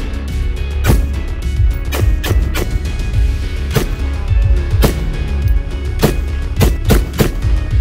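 A 5.56 rifle is fired outdoors at strainer spoons, with about ten sharp, loud reports in an uneven series over a low steady background rumble.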